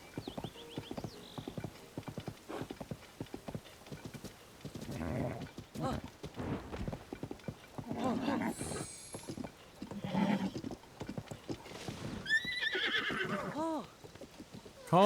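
Steady clip-clopping hooves with a horse whinnying, set against a busy soundscape from the game The Legend of Zelda: Tears of the Kingdom, with brief mechanical clanks.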